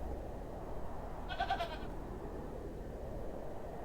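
In the point-and-click adventure game Hob's Barrow, a goat gives one short, wavering bleat at middle distance, rising briefly over a steady low ambient hiss and rumble with no speech.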